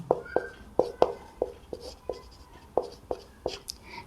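A pen writes notes for a class 12 maths exercise, giving a steady run of short, close scratchy strokes and taps roughly every few tenths of a second, with faint voice nearby.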